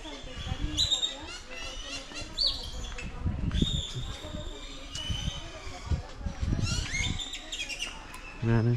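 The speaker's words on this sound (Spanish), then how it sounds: "Acá tienen aves." Birds chirp and call repeatedly at a crocodile park in San Blas, Nayarit, Mexico, bright tweets ringing out over low background rumble and footsteps, with people talking nearby.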